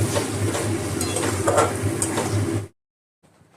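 Spices with Kashmiri red chili powder sauté in a pan for a fish-head and bottle gourd dish, a close, busy sizzle with stirring scrapes that cuts off abruptly, followed by near silence and a faint trace.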